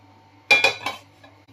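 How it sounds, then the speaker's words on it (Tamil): A cooking pan is set down for tempering while making a watermelon gravy, giving two or three quick, close metallic clanks that ring briefly before fading into a quiet hum. "தாளிக்கிறதுக்கு ஒரு பாத்திரம் வச்சிடலாம்"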